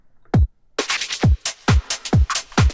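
Snare roll blended with a reversed spin-down effect and low-cut automation in a breakbeat track, punchy repeated hits with swelling reversed tails, rhythmic and upfront with no voices.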